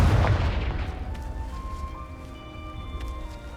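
A Confringo blasting spell erupts in Hogwarts Legacy with one loud, close boom that fades into a decaying rumble and ringing tail.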